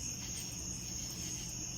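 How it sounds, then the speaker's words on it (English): Cicadas and crickets drone at night in a steady, continuous high-pitched buzz, unbroken and moderately loud over a faint low rumble. "You could hear the cicadas and the crickets"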